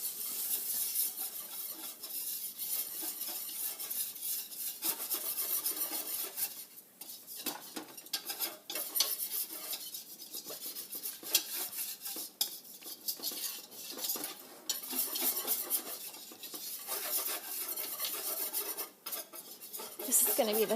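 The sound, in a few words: stirring a roux of fat and flour in a pan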